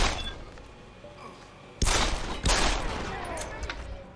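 Gunfire in the video game Deus Ex: Human Revolution: sudden loud bursts of shots break over a dim ambient background, with one heavy volley followed by another roughly half a second later, then rattling echoes that fade out.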